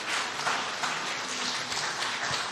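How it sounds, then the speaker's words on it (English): A room full of people gives a round of applause at the end of a round in a Republican debate for Oklahoma County District Attorney, with steady, moderately loud clapping lasting a couple of seconds. "Round of applause."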